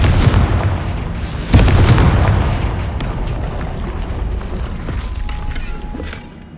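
A Confringo spell blasts through a magical barrier in the Hogwarts Legacy video game, a loud booming explosion with a sharp second impact midway, followed by rumbling debris and creaking that slowly fade.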